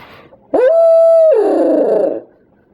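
A single long, hollow hooting call imitating an owl, blown on a handheld turkey-hunting caller, rising then wavering into a rougher trailing note, loud and close.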